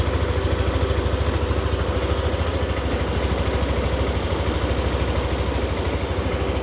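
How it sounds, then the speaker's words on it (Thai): A 2021 Yamaha Nmax scooter with stock exhaust idles steadily at close range, its exhaust putting out an even, rapid low chugging throb that never changes pace. "มาลองฟังเสียงท่อรถกัน"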